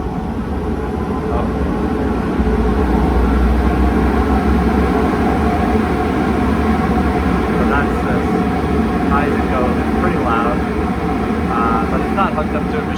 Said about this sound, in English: Hooked up to a machine, so a lot of that is the air noise that you're hearing.